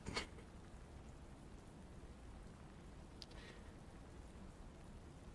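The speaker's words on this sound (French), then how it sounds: "Donc en effet, il pleut." Rain falls outdoors as a faint, even hiss throughout, with a sharp tap at the very start and another brief patter midway.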